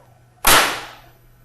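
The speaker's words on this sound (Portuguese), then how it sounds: "Agora eu sou obrigado a disparar, porque esse rifle aqui não aceita outra forma de ser desarmado" A single sharp air rifle shot fired outdoors to discharge the rifle, a sudden loud crack that fades quickly over a steady low hum.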